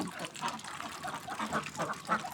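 Khaki Campbell ducks quack and honk in a steady, moderately close chorus at afternoon feeding time on a duck farm, their calls overlapping in uneven bursts.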